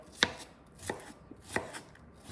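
Onions are chopped on a cutting board for breakfast fried rice: three or four sharp, close knife strikes spaced evenly apart, with no voices.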